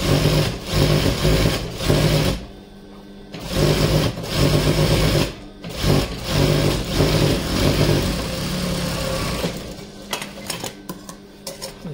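A sewing machine stitches the frill hem of a petticoat in bursts of rapid whirring, pausing between runs, loud and close, with no voices.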